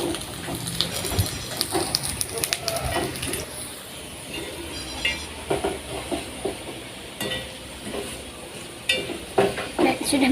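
Moringa leaves sizzle and hiss in a frying pan while they are stirred, with repeated scraping and clattering strokes throughout. Voices talk faintly in the background.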